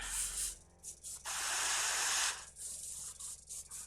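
Spray paint hisses out of a can in several short bursts followed by one longer sustained spray, all close and fairly quiet.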